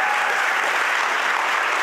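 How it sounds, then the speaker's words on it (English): Steady, even applause from an audience at a county State of the County address, a continuous wash of many hands clapping at close range for under two seconds. "You can clap."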